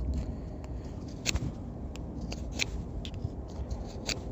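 A CRKT Minimalist fixed-blade knife carves a point on one end, giving quiet, close scraping strokes with a few sharper crisp scrapes spread irregularly through the clip. No one speaks.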